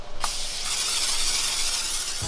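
Nonstick cooking spray hissing into a 9x13 baking dish, one steady continuous burst lasting about two seconds, close and fairly loud with no talking.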